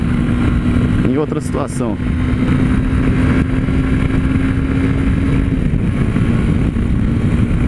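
Honda Sahara 300 motorcycle cruising on a highway, its engine a steady loud drone mixed with heavy wind rush throughout, while a rider speaks briefly near the start.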